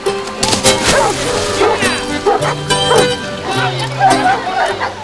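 Newfoundland dogs in water rescue training in Italy bark and yip excitedly, several sharp loud barks in close succession with some whimpering, while people chatter in the background.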